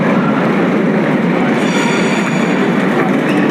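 A fast train bound from Germany toward Austria rumbles steadily from inside the carriage, a loud continuous roar of wheels and air with a faint high whine partway through.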